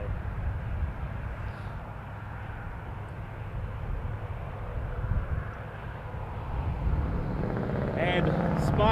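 Air Transat airliner passing at Toronto Pearson Airport, a steady broadband jet roar holding across the whole stretch, swelling slightly toward the end, with faint voices briefly audible near the close.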